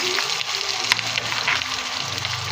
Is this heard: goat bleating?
no